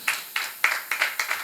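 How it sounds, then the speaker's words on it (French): A small studio audience claps in a few spaced, distinct bursts, roughly six claps in quick succession, close and moderately loud, with no talk over them. "Sous vos applaudissements"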